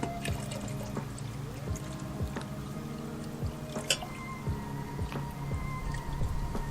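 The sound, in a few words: aquarium fish poured with water into a deck pond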